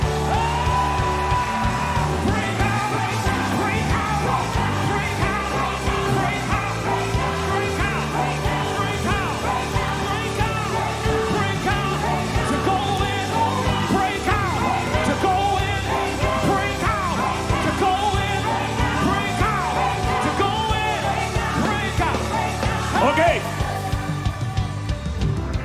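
A church congregation shouts, yells and whoops together, a loud, dense crowd roar that holds steady for about twenty-three seconds before easing off near the end.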